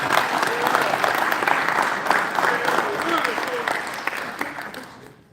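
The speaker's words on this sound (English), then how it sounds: "Welcome these guys up here on stage and give them a big round of applause" A crowd at a high school signing day event applauds players as they come on stage, dense clapping mixed with cheering and voices, tapering off at the end.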